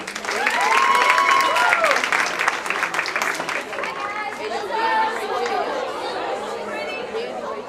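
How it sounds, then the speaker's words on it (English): Audience clapping and applause at a young women's symposium, a dense, steady wash of many hands for several seconds, with crowd chatter and voices mixed in. "So let's clap it up for Dana Chanel."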